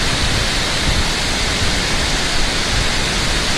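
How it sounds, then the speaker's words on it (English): Christie Falls swollen after heavy rain, a dense, constant roar of rushing water close by with no pauses or voices, filling the whole few seconds evenly. "So much water coming down up here."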